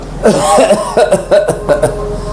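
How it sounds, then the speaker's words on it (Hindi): A person coughs repeatedly in harsh, rasping bursts, several close together, with throaty strain between them and a steady background hum. "कितनी भयंकर खांसी हो रही है"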